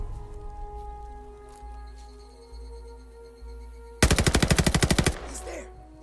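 Gunfire in a WWII Pacific war video game: a rapid machine-gun burst of about a dozen sharp, evenly spaced shots rings out loud and close after a quieter stretch of jungle ambience and low rumble, then fades into echo.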